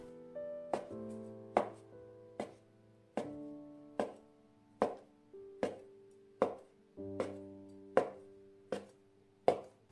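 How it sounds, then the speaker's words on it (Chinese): Knife chopping rolled wild-vegetable dumpling dough into pieces on a board, about a dozen sharp, evenly spaced thuds, close and clear with short ringing tails and no talk. "然后再从中间切开，再给它搓得均匀一点，然后再切成大小均匀的剂子"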